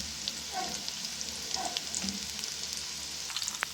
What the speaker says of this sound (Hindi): इसका हम तड़का दे देंगे।